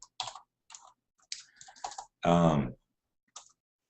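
Someone types figures on a computer keyboard in short, irregular clusters of close clicking keystrokes separated by silences, with one louder, more tonal burst partway through.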